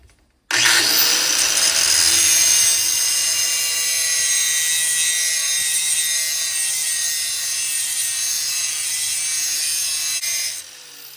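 A lawnmower blade is sharpened with a Sporgain blade sharpener, making a loud, close, continuous grinding whine for about ten seconds before it abruptly stops.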